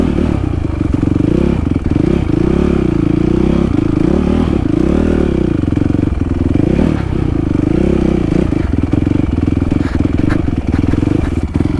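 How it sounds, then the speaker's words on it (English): Dirt bike engine running continuously while off-roading on rough terrain, a loud sustained motor drone with shifting revs and rattling, scraping clatter throughout. "First time off-roading on a dirt bike."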